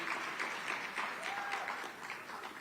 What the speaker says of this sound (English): Can we give a hand clap for him?